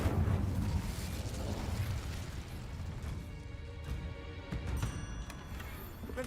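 Incendio fire spell cast in a Harry Potter–style video game, a roaring burst of flame with crackling debris that swells at the start and then settles, with a voice speaking over it.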